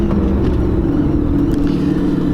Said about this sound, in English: That noise is most likely the drive shaft.